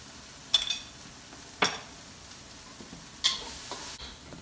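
Scallops and shrimp frying in oil in a pan, a steady soft sizzle under a few sharp utensil scrapes and clinks against the pan, heard close with no talking.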